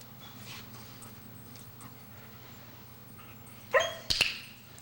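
A dog in a training session whimpers faintly against low background hum, then gives a couple of sharp yips and barks near the end, close and sudden.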